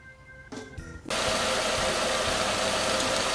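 A 2012 Nissan Versa SV with a 1.6L engine cranks over after a few quiet clicks and rattles, then settles into a loud, steady running roar with a dense, slightly knocking texture, heard alone.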